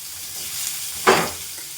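Eggplant and green chilli sizzle in hot oil in a pan, a steady hiss broken by a brief loud burst as the pieces are stirred.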